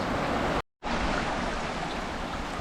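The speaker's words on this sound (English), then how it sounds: "I guess they call this a dam, aka rapids" River rapids near a dam in Algonquin North in August, water rushing over rocks in a loud, steady roar that cuts out for a moment near the start.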